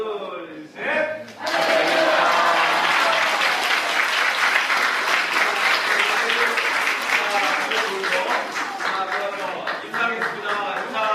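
Big applause from a church congregation after a shout of praise, opening with a brief voice, then a sudden swell into dense, sustained clapping from many hands that stays loud for about nine seconds with voices mixed in.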